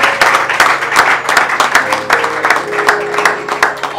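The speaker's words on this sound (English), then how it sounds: "Can we all clap for these people?" Wedding guests clap and applaud together in a dense, steady burst of many hands, loud and close, with faint voices and a sustained tone running underneath throughout.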